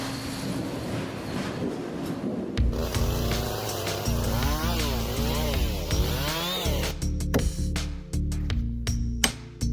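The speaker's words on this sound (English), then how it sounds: "followed by sawing the wood with a chainsaw" A chainsaw cuts through timber during logging and wood processing, a loud, steady engine roar running for about ten seconds with shifting pitch and no voices.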